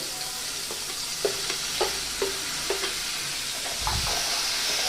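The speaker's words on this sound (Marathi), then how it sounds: "तर आता पहिल्यांदी कांदा याच्यामध्ये टाकते." Onion added to hot oil with crackled mustard seeds and cumin for dal fry: a steady loud sizzle and hiss with a few soft stirring knocks against the pan, and no voices.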